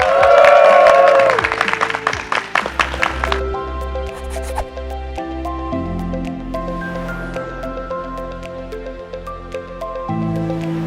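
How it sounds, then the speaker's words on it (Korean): A lecture audience claps to welcome a university professor, a burst of applause in the opening seconds that quickly stops and gives way to sustained synthesized music tones with a low rhythmic pulse. "우리 남성현 교수님을 여러분의 커다란 박수와 함성으로 모실까요?"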